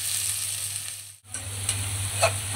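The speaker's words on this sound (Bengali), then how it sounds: "পেঁয়াজগুলোকে ভেজে নিব।" Onions fry in oil in a pan for a duck meat bhuna, giving a loud, close, continuous sizzle with a brief dip midway.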